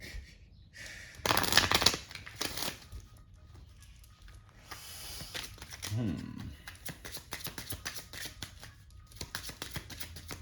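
Crisp riffling and rustling of tarot cards being shuffled in bursts, close up, with soft talking faintly underneath.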